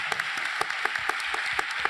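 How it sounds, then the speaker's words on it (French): A real estate conference audience claps in a thin, sparse round, with distinct individual claps in an uneven rhythm at moderate distance. "Applaudissements pour Bernard Grech."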